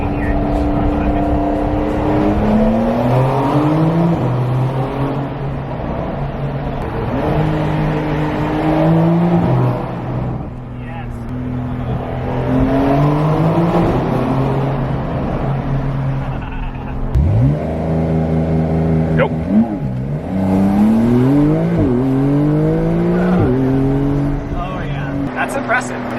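A Porsche 992 Carrera 4S accelerates hard through a tunnel in repeated full-throttle pulls, its engine note climbing through the gears between shifts, loud and echoing.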